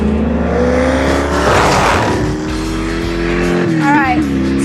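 Javelin race car lapping a track in practice, engine droning steadily with harmonic tones shifting as it works through the gears, a rising revving sweep near the end, with voices over it.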